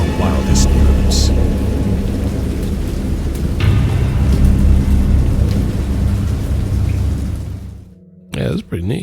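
Stormy thunder with heavy rain pours loudly and steadily, a dense downpour with rumbling undertones and a few sharp cracks, from the interactive graphic novel Dagon; the roar breaks off near the end before a brief low rumble returns.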